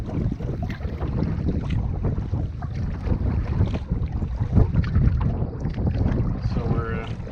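Canoe paddled around an island on Catfish Lake in Algonquin, with continuous low wind and water rumble, soft paddle splashes and strokes close by, and a voice talking over it.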